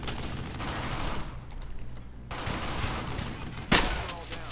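Gunfire rattles in the World War II shooter game Brothers In Arms: Hell's Highway, with a sustained burst of shots, a brief lull, then more fire and one louder close blast.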